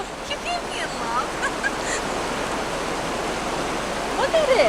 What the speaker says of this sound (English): the staff have been talking about a creek